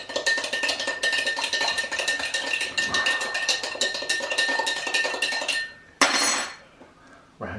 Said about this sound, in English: Stir up a bit more.